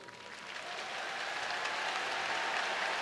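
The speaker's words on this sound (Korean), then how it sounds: "길게 이어진 은퇴식 내내 라팍을 지킨 팬들은 뜨거운 박수로 등번호 21번 오승환을 보내줍니다." Baseball fans at a retirement ceremony in a stadium give steady, sustained applause, a dense even wash of clapping from a large crowd heard at a distance with no talk over it.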